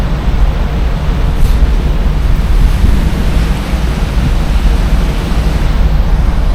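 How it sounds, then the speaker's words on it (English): Strong wind roaring over the open sea off the Greenland coast, heard from a ferry, a loud, constant rush of noise with surf churning underneath and no voices. "Really windy."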